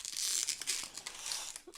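Sticky tape pulled and peeled with a crackling, tearing rasp, loud and close, running continuously with brief pauses.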